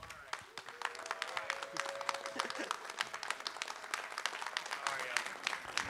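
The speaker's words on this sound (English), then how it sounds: "let's give a big round of applause for Mr." Audience applause at a Cincinnati Comic Expo panel greeting actor Tom Arnold, a steady patter of hand claps from a large room with faint talk and murmur running underneath.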